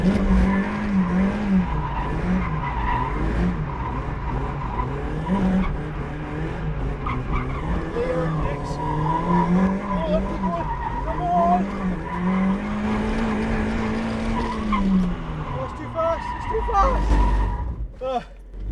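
Mazda MX-5 Miata drifting after a clutch kick, its engine note rising and falling with revs while tires squeal and skid continuously, close and loud throughout.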